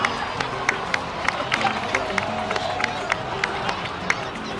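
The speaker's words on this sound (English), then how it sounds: "please give another round of applause for them" A crowd in a video game cutscene claps and cheers for the heroes, a busy wash of applause with crisp individual claps popping through steadily, voices murmuring within the crowd.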